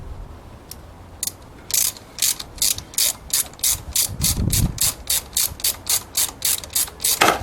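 Hand ratchet turning a chain sprocket bolt, a fast steady run of sharp metallic clicks in even strokes, close and clear with no talk.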